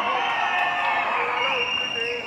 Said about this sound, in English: can we give a big round of applause for the first?